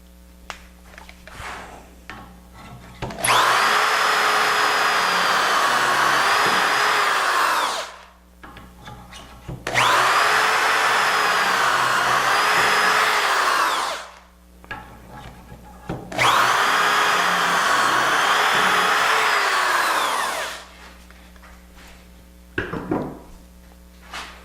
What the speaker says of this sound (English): Now we're going to drill 1,